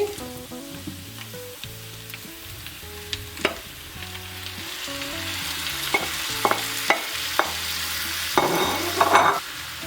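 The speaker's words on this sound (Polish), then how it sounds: "I smażymy pieczarki e, do momentu, aż wyparują wody." Mushrooms and onion frying in a pan for a baked open-faced sandwich, a steady close sizzle broken by scraping stirs and clacks from the utensil, with music playing faintly underneath.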